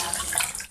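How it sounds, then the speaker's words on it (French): A wet sponge wrung out over a lithography stone, a short close burst of dripping and splashing water that trails off quickly. "tu essores bien ton éponge."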